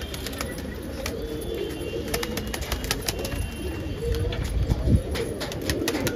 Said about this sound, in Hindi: दोस्तों फाइनली कबूतर आके बैठ चुका है